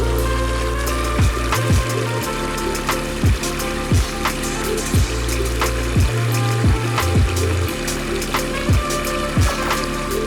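Water from a 6,000 biofalls pond filter cascades over large lichen- and moss-covered boulders in a backyard pond waterfall, a steady close rushing splash with a low pump drone and no talking.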